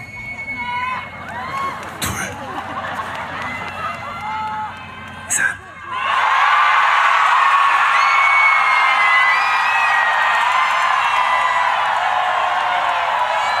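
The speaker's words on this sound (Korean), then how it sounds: "다시 한번 함성을 들어보도록 하겠습니다." An outdoor picnic concert crowd lets out a huge, sustained roar of cheering and shouting that fills the air after a voice counts in. Scattered chatter and claps come before the sudden swell, which stays loud to the end.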